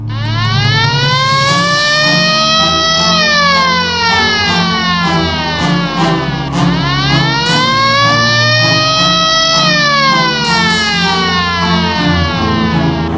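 A wailing police car siren sweeps up and down in long, loud, repeating cycles, sounding close and continuous with no talk over it.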